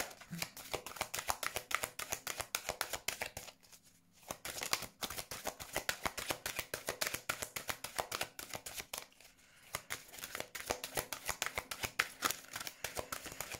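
A deck of oracle cards being shuffled by hand, a long run of quick rustling flicks and riffles close up, with two brief pauses between bursts and no talking.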